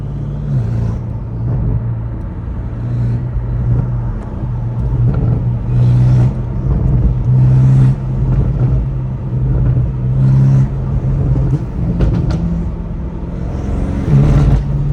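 A BMW M5 Competition with a fully straight-piped exhaust idles with a loud, deep, close rumble, surging repeatedly in short rev bursts every couple of seconds without any talk.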